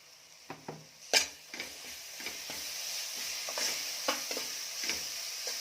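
Ginger garlic paste sizzles in a pan with spiced mutton masala for Kolhapuri-style mutton, a steady frying hiss broken by scattered stirring scrapes and clicks, fairly close and moderate in level, with no voices.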